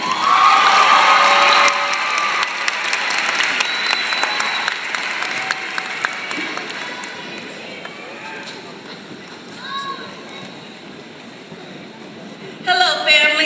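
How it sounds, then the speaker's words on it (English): An audience at a UCR Black graduation ceremony applauds and cheers for a student speaker, loud dense clapping that gradually thins out over several seconds, with a few voices mixed in. "please give a round of applause for Natalie Horne."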